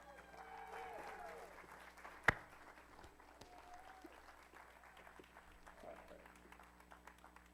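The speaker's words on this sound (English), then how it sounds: "let's give a giant round of applause, a roaring round of applause for Michael Hellickson" Faint applause from an event audience greets a speaker being introduced. A low, scattered clapping sits under a talking voice, with one sharp loud clap standing out early on.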